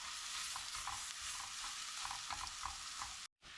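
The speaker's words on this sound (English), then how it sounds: "give that a mix around." Onion and garlic sizzle in a frying pan while being stirred, a soft steady crackle with gentle scraping strokes, close and faint with no talking.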